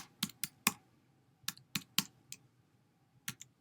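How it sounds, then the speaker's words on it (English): Someone types a password on a computer keyboard, a handful of sharp, separate key clicks in small irregular clusters with short pauses between. Quiet and close, with no talking. "Here I'm going to type it in."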